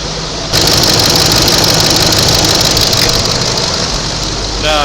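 A Toyota Land Cruiser 200 diesel engine idles close by as it warms up, a loud steady clattering rumble that starts after a brief lower lead-in.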